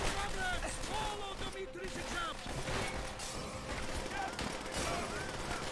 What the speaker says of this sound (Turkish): O gelen arabalara sıkacağım.